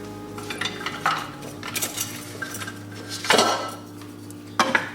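Chopped onion tossed into a pan of melting butter, heard as clattering pan and utensil knocks and scrapes, with a few sharper clanks standing out over a low steady kitchen hum; no one speaks.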